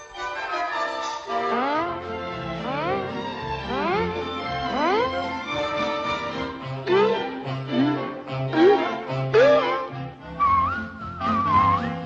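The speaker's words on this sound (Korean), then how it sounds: "휘파람을 불어, 휘파람을 불어" A melodic whistled tune from Disney's 1940 Pinocchio rises in quick upward slides and short phrases, clear and prominent over light orchestral backing and sung voices.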